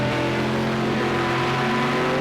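Group C race cars lapping the Algarve circuit in Project Cars 2, a loud continuous engine drone with steady tonal whine, close and unbroken, no pauses or passes standing out.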